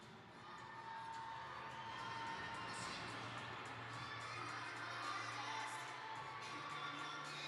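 Fans cheer and shout at a U15 girls' hockey championship game in an arena, a steady, moderately distant roar with higher children's voices rising through it.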